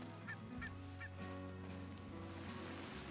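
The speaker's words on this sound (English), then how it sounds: "More prairie chickens." Prairie chickens in Red Dead Redemption 2 give a few short honking, goose-like calls in quick succession over a soft, steady outdoor ambience, with no talking.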